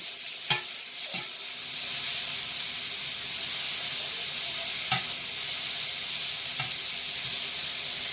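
Beef, a little over a pound, searing in a pan for beef stroganoff: a steady broadband sizzle fills the clip, with a few sharp clicks near the start and two brief scraping knocks later, loud and close without talking.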